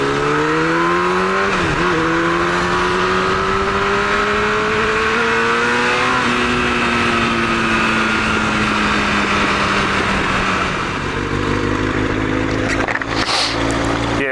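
A 1999 Yamaha R1 motorcycle engine held in first gear while riding, a loud, steady drone whose pitch climbs, dips briefly and climbs again, with wind noise throughout and a harsher rise near the end.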